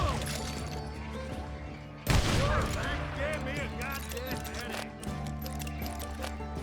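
A burst of gunfire erupts from a band of hired gunmen in Call of Juarez: Gunslinger, a Western shooter. A loud volley hits suddenly after a quieter stretch, then scattered shots and game noise continue.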